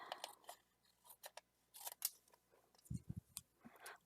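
Scissors snip through paper while a card is being made, giving a series of short, crisp cuts in irregular bursts close up and fairly quiet, with no talking.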